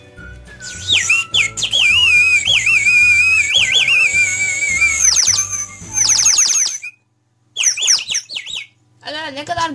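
Loud, shrill warbling from a water-filled toy bird whistle blown hard: long wavering trills and squeals, then a short silence and a few more chirping bursts close by.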